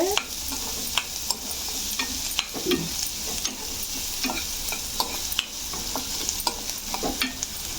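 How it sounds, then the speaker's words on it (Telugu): Onions sauté in a pan for a carrot curry, giving a steady close sizzle broken by irregular sharp clicks and scrapes of a spoon stirring, with no talking. "మగ్గిస్తున్నాను ఉల్లిపాయ"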